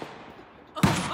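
A single loud blast from a Kel-Tec KSG shotgun at a gun range cuts in abruptly after near-silence, close and sharp, with a short decaying tail.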